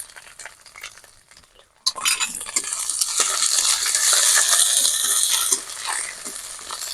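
Ginger-garlic paste is stirred in a hot pan for fish-roe kofta curry: a sudden loud sizzle kicks in, then continuous frying hiss with repeated scraping and clinking of a spatula against the pan, close up.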